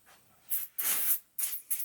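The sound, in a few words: aerosol cleaning spray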